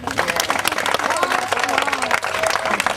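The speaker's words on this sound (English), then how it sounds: "Give an applause." Audience applause at a family storytelling session, steady clapping with a crowd murmur over it and voices chattering underneath throughout.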